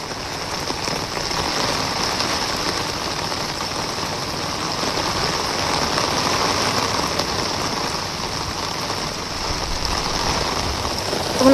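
Heavy rain pours steadily over Konkan rice paddies during transplanting season, a dense, even hiss that holds at constant loudness throughout with no voices.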